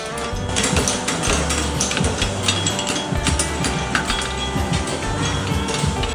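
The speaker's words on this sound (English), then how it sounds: "Now we'll just use the heel of our hammer to draw out our clip." Blacksmith at a world championship competition working hot steel on an anvil, using the heel of the hammer to draw out a clip; dense, rapid metallic strikes ring out continuously over a busy, noisy workshop background.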